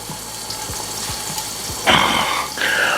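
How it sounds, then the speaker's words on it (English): Chicken breast frying in a pan for a homemade chicken sandwich, a steady close sizzle with soft crackles, swelling louder toward the end with a brief running-water or stirring burst. "while the chicken is finishing up cooking here"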